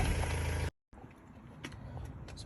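A Ford Transit van engine cuts out and restarts after the starter motor is bridged. A loud close rumble stops abruptly, falls silent briefly, then returns as a quieter steady idle with a few clattering knocks.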